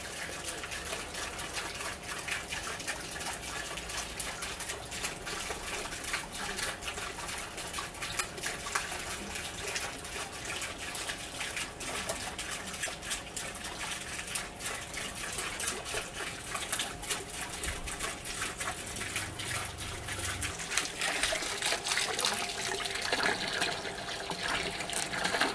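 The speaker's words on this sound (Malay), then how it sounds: "Sekarang ni daripada solar panel kita turunkan voltage pada 12 volt, kemudian kita sambungkan kepada pump." Water pumped by a 12-volt pump running off a solar panel pours steadily into an aquaponics fish tank, giving a continuous, even splashing and gushing with no pauses.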